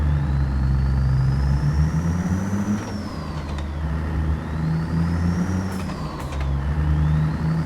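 Old truck engine labours steadily up a steep hill hauling a heavy scraper, loud and close, its pitch rising and falling as it strains, with a wind-like rush throughout.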